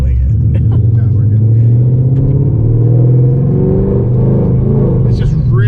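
An 800-horsepower 2018 Ford Mustang with a clutch rumbles loudly nearby in a deep, steady drone that swells slightly, with people talking inside the car.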